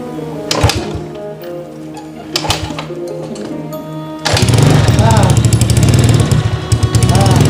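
A motorcycle engine idles, then from about four seconds roars up loudly and holds at high revs, close by, with voices talking over it in a Sundanese comedy sketch setting.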